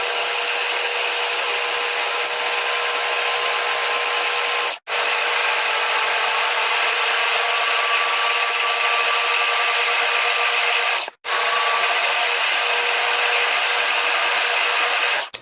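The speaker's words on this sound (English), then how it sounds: "I'm going to go ahead and start blending this." A blender runs continuously on thick, spicy homemade queso cheese dip. The motor whirs loudly and evenly and cuts out briefly twice.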